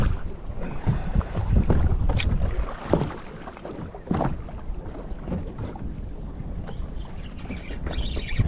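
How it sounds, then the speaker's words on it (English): Wind gusts buffet a small boat on the water in Moreton Bay, a steady rushing roar with microphone buffeting, alone and fairly close, with a brief squawk near the end. "That wind's getting up again."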